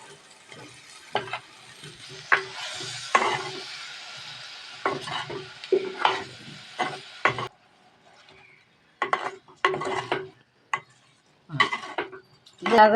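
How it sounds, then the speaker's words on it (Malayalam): Soybean chunks stirred and sautéed in a pan with green chilli and turmeric, spoon scraping and clattering in bursts over a soft sizzle, with brief pauses. "അതിൽ നമ്മുടെ സോയാബീൻ ഇട്ട് ഒന്ന് വഴത്താം"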